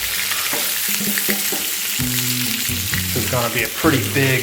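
Lots of chopped garlic and onions sizzle loudly in a hot pan for Albanian chili, a dense continuous frying hiss with occasional stirring scrapes, while someone talks over it.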